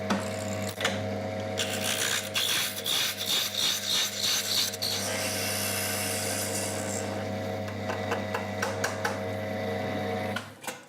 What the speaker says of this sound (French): je vais bien dégrossir le bout de corne